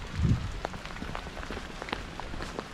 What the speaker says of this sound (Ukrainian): Але дощара.